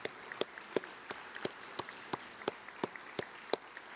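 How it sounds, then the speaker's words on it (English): Families at an evening awards ceremony receive applause from the audience, faint distant clapping spread thin, with a few sharper individual claps standing out at a regular pace. "let's give them a round of applause for everything that they have done to support their student"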